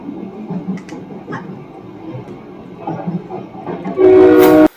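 A train rumbles past nearby, then a loud horn blast bursts in near the end, drowning everything else out for a moment.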